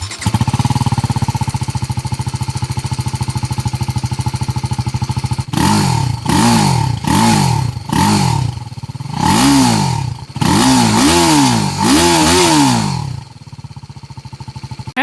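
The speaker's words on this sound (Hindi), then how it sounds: "अभी इसको स्टार्ट करके मैं आपको इसकी एग्जॉस्ट नोट सुनाता हूँ।" A TVS Apache RTR 310 motorcycle idles steadily, then revs hard in a series of sharp throttle blips with a loud, rasping exhaust note before dropping back to a settled idle, heard up close with no talking.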